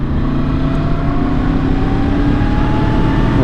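A QJ SRV600 V4 four-cylinder custom motorcycle under way in fourth gear, its engine a steady, loud drone with a slowly rising pitch and continuous wind noise, close and alone with no talk.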